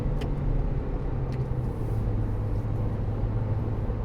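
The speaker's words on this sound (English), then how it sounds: "listen to that baby purr. I love driving this car." Car engine purring steadily while driving, a low continuous hum with road rumble from inside the cabin, no talking.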